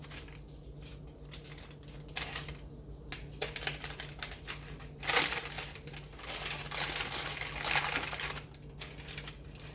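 Crinkly wrapper being peeled off a chocolate bar near a warm stove burner, with irregular close crackles and rustles, one louder burst midway, over a steady low hum.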